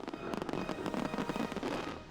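Fireworks burst over Burrard Inlet in Vancouver during a summer celebration, a dense run of crackling pops and booms heard at a distance, fairly faint.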